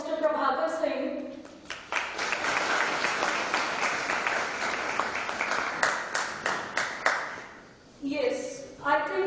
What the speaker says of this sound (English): Let us put our hands together for Mr. Prabhakar Singh.